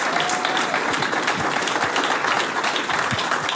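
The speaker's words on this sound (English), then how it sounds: "give them a big round of applause, our state champions." A city council chamber audience gives sustained, steady applause for a state champion softball team; dense, even clapping fills the room with no voices on top.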